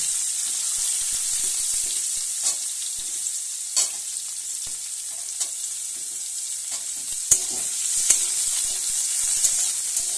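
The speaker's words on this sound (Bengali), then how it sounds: "আমি সিম আর বেগুনটা একসঙ্গে ভেজে নিচ্ছি" Flat beans and eggplant frying together in oil in a kadai give a loud, continuous hissing sizzle, with occasional small pops and soft stirring knocks rising above the steady roar.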